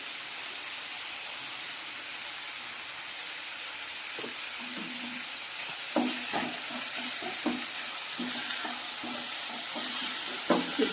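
Spoon scrapes and clicks intermittently through samosa vegetable filling with salt in a pan, with soft, faint sizzling underneath.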